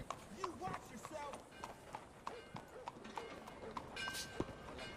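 Horse hooves clip-clop in Red Dead Redemption, a steady galloping patter running close beneath game dialogue, with a brief whinny-like tone near the end.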